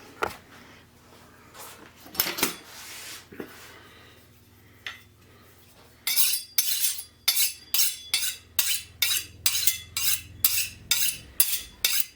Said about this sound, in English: let me get this sliced up in the pan